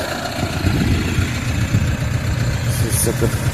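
Tractor engine running steadily out in a field, a loud continuous low rumble with no talk over it.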